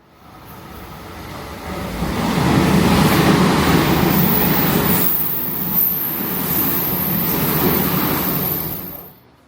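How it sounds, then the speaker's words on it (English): A heavy rumbling roar builds over a couple of seconds as a train passes close by at Jokoji Station in Japan, holds steady for several seconds, then drops away abruptly. "Oh, that's a train coming."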